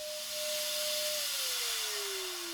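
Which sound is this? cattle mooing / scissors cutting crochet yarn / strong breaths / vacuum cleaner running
vacuum cleaner running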